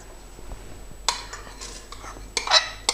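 Dry rice tipped into a cooking pot of vegetables, a couple of short rattling, clinking pours, close and fairly quiet against a low background hum.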